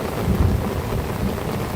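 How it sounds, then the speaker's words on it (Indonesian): Steady heavy rain roars throughout, with a low rumble swelling briefly near the start like distant thunder. "ternyata hujan deras turun lagi teman-teman."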